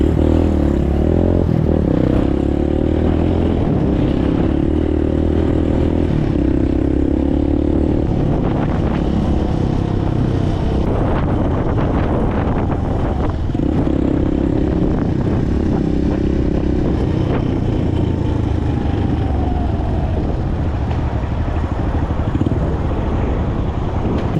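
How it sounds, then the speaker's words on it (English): A Suzuki DR 200 big-bore motorcycle on knobby tyres rides across a metal bridge. The engine drone is loud and close, heavily buffeted by wind noise, with shifting revs throughout. "Knobbies on a metal bridge are fucking sus, bro."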